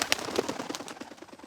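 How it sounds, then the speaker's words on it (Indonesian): Rapid fluttering pigeon wingbeats, a quick series of soft flaps that slow and fade over a second or so. "Ini mah soal efek terbang dari burung merpati"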